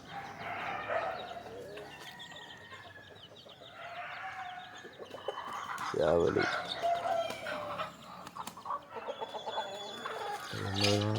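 Native country chickens cluck and call nearby at a coop, their sounds mixed in with people talking over the top.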